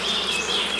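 Honey bees at a beehive fill the air with a dense, steady, close-up buzzing hum that holds evenly throughout.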